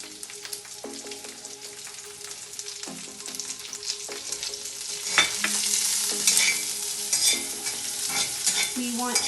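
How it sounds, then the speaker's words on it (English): Sliced shallots sizzle and fry in a pan while a utensil stirs and scrapes through them, with steady crackling and several clear knocks against the pan, growing busier toward the end. "And then to that I will throw in the"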